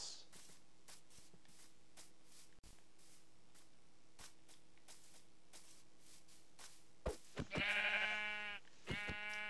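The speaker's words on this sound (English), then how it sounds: "Oh, sheep." A sheep bleats in Minecraft, a loud wavering bleat near the end, followed by a shorter one, after steady clicking and quiet game ambience.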